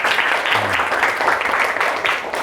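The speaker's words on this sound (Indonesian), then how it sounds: "Kita akan bermain tepuk tangan." Group hand clapping in a classroom clapping game, a steady wash of many hands applauding together for a couple of seconds, with voices faintly mixed in.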